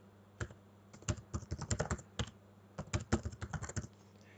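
Someone types on a computer keyboard while entering a server name. Crisp, quiet keystrokes come in two quick runs with a short pause between them, and no voice is heard.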